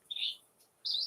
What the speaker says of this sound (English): What's making that cheeping sound?